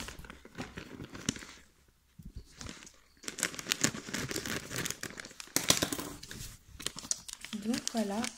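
Plastic bag of terracotta-toned aquarium sand being opened, with crinkling and rustling bursts through most of the stretch and a person talking over it.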